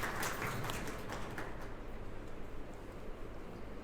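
Audience applause in a room, dense clapping that starts loud and gradually thins out into scattered claps.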